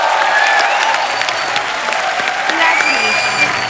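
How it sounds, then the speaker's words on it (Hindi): Studio audience applause on a comedy talk show, a dense, loud wash of clapping that holds steady the whole time, with some voices mixed in. "तालियां।"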